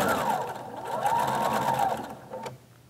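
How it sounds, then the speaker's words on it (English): A sewing machine stitches a Y-seam in a steady, close whirring run of needle strokes that slows and stops near the end. "I'll go ahead and sew this down."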